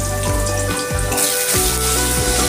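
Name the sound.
potatoes frying in hot mustard oil in a wok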